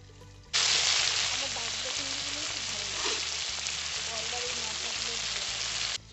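Prawns fry in hot oil for a mustard prawn dish, giving a loud, steady sizzle that starts abruptly and holds evenly for several seconds before cutting off.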